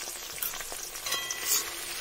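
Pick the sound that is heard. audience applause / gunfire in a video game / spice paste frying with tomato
spice paste frying with tomato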